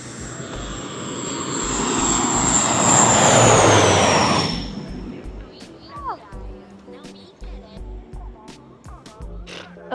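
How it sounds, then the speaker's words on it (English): A small propeller airplane drones overhead at a beach, swelling loud and fading over about five seconds, then voices chatter against the wind. "we only saw a small airplane"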